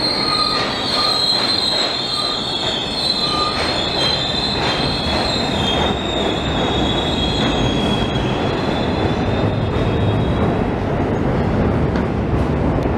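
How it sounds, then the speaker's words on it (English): A southbound local New York subway train pulls into the station, wheels squealing loudly over a steady rumble and clatter of rail cars, continuous and close for the whole stretch. "A southbound local train arrives and we step down to the underpass"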